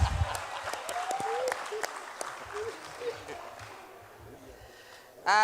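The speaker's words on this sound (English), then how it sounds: "Can we clap for ourselves?" A general assembly audience claps for itself, scattered hand claps at moderate level mixed with voices and cheers that thin out toward the end before a brief loud burst.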